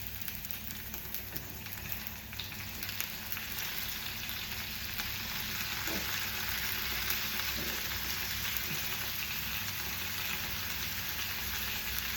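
Tomato buttermilk curry bubbles and hisses softly in a pan, a steady low sizzle with only faint, occasional stirring sounds underneath.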